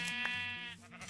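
A sheep in the Minecraft video game gives a single wavering bleat, soft and somewhat distant, ending in a short lower murmur.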